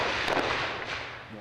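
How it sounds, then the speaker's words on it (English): A short, loud burst of sharp cracks of gunfire and heavy booming flashbang blasts during a police SWAT standoff, crowded together and then tailing off. "gunfire, flashbangs."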